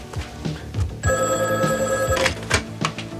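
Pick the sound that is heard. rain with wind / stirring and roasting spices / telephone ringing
telephone ringing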